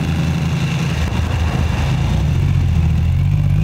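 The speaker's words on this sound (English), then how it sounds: "A standard internal combustion engine." An engine runs steadily at idle, a low, even rumble close by with no voices.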